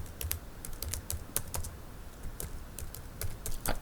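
Typing on a computer keyboard, a quick uneven run of light key clicks, fairly faint and close, with no voices.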